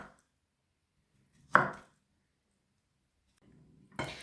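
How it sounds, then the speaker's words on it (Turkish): Two separate knife chops through medium-sized dry onions on a cutting board in a home kitchen, each a sharp close thud a couple of seconds apart, with quiet between. "İki tane orta boy kuru soğanımı bu şekilde doğradım."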